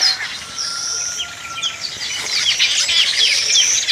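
Birds chirp and twitter busily around nests being built in an African village at morning, several overlapping high calls and trills close by with no voices.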